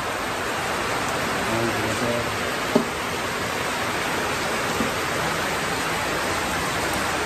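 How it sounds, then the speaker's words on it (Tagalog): Heavy rain pours steadily as a dense, even hiss that fills the whole stretch, with faint voices murmuring underneath and a single sharp knock partway through. "Tumaas kasi yung ulan guys."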